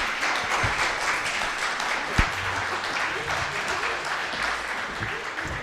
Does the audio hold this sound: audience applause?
yes